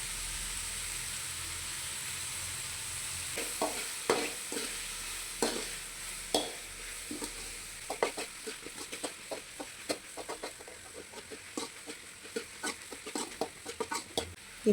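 Tomatoes sauté with salt in a pan for a pea curry. A soft continuous sizzle runs throughout, and a spatula adds quick, increasingly frequent taps and scrapes against the pan.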